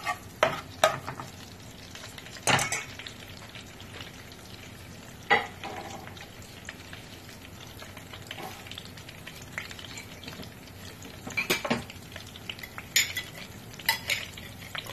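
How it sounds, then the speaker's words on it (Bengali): Ginger-garlic paste fries in oil in a pan for mutton rezala, a constant low sizzle broken by loud metallic clanks and scrapes of a spoon stirring against the pot, with no talk. "এর ভিতর আমি আদা রসুন বাটা দিচ্ছি।"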